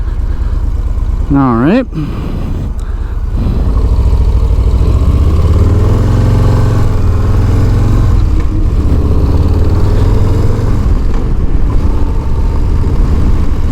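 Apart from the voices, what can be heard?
Harley-Davidson Low Rider S motorcycle engine running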